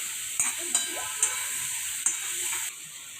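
Gunda simmer in oil in a pan over a low flame, giving a soft, steady sizzle and hiss broken by a few sharp scrapes and knocks of stirring.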